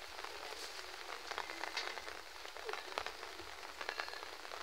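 Steady rain patters outdoors at a Filipino farm lot where a fence is being repaired, a continuous dense hiss of drops with scattered sharper taps on surfaces, moderately quiet and without voices.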